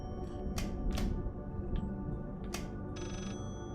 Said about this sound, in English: I don't understand. Where's this phone?